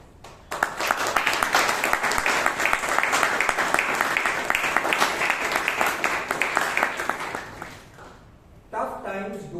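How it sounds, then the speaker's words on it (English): Applause from a Toastmasters meeting audience in Bangalore for the role takers and speakers, a sustained round of many hands clapping that swells in and tapers off, followed by a speaker's voice at the end. "a big round of applause to all the role takers, the speakers who've taken the stage so far"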